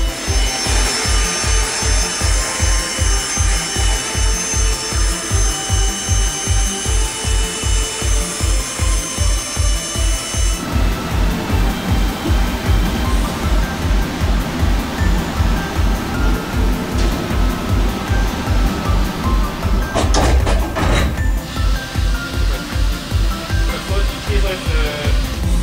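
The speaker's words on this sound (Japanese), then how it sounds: "安全にエンジンが起動するまで全く油断できません。" Japanese navy destroyer engine starting up in the engine room, a rapid steady mechanical chugging rhythm with a high hiss that drops away midway, then a loud surge as the engine catches, with crew voices briefly heard.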